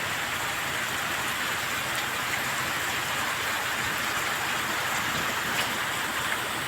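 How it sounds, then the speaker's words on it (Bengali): Heavy rain falling in Sylhet on a rainy day, a constant broadband wash of drops on nearby surfaces, even and close, with no talking. "আজকে আমাদের সিলেটে অনেক বৃষ্টি হচ্ছে"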